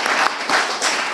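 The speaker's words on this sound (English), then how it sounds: "If you'd give him a round of applause." Audience applause at a public lecture on public health and the nanny state, broad steady clapping from a crowd filling the whole moment, loud and close with slight swells.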